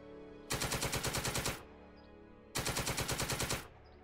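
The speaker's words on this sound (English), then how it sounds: "we'll put the machine gun fire on here." Two loud bursts of machine gun fire in the World War II strategy game Second Front, each about a second long with rapid evenly spaced shots, separated by a short pause with faint background noise.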